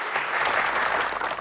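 Applause from a comedy show audience, a dense burst of clapping filling the whole moment, loud and continuous before cutting off abruptly.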